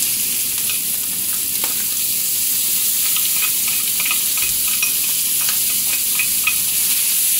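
Chopped onion sizzling in a hot pan alongside browned shrimp for paella, a bright, steady crackling hiss with small pops, close and continuous, no voices.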